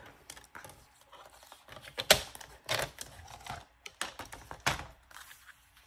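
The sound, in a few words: cutting paper for a scrapbook album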